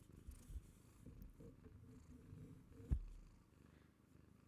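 A soft, low cat purr rumbles steadily and close by, very quiet, with one brief bump partway through and no voices.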